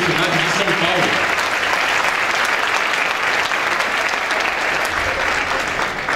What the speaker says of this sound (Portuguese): Por favor, uma salva de palmas para Roque Passos Pivelli, da Universidade de São Paulo.